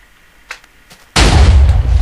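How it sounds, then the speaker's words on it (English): A Minecraft TNT blast from a firework cannon: after a second of near silence with a few soft clicks, a sudden loud boom erupts and roars on as a heavy, rumbling explosion until the end. "the TNT, when they explode, push each other around"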